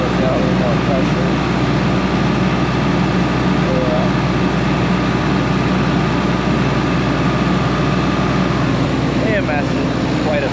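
Engine throttled up to build pressure for applying AMS fertilizer, a steady loud drone with a low heavy hum, while someone talks over it throughout.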